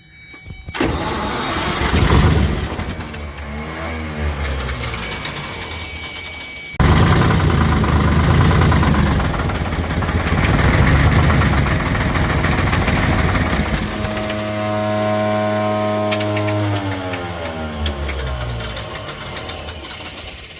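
A GMC Crackerbox truck engine, run on fuel fed through tubes with oil seeping between the rockers, cranks and fires up loud and close. It stops, restarts, then settles into a rough, uneven idle with a rising rev near the end.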